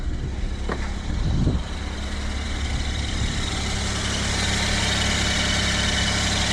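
A Japanese kei truck engine idling steadily nearby, a low, even rumble with slight vibration and a brief bump early on.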